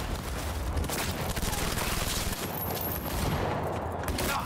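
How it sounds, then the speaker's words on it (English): Police gunfire in Cyberpunk 2077 rattles in a dense, continuous fusillade of rapid shots, loud and close throughout, with a faint voice underneath. "Why are the cops shooting me?"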